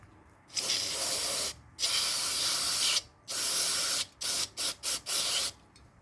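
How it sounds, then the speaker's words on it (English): Aerosol cleaner sprayed onto the mass air flow sensor of a Toyota Camry, a close, loud hissing in several long bursts followed by a run of short quick squirts, with no talking. "I sprayed it well all the way around"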